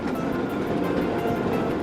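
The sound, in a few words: Jakarta-Bandung high-speed train running on trial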